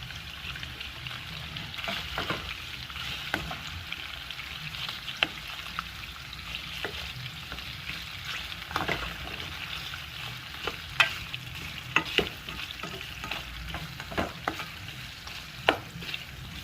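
Cajun smoked sausage frying in a pan, a steady low sizzle running throughout, with scattered sharp clicks and scrapes from stirring.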